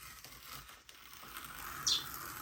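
A pet bird indoors gives a single brief, high chirp near the end, heard over a steady background hiss with no talking.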